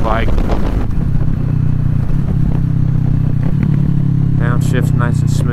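2020 Kawasaki Z650 motorcycle being ridden, its engine droning loudly and steadily up close under wind, with a dip where it shifts down; a rider talks over it.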